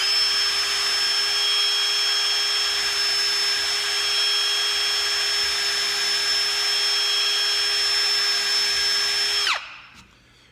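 Power drill pre-drilling a hole, a loud, steady high-pitched motor whine held close and unbroken for about nine seconds before spinning down abruptly, no voices.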